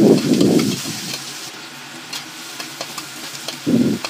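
Ginger and onion hitting a little oil in a pan, a loud burst of sizzle and stirring at the start, then quieter frying with light scrapes before another loud burst at the end.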